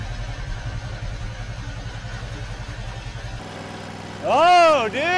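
A skid steer drives across a homemade DIY bridge, its low pulsing engine rumble steady for a few seconds before excited voices break in.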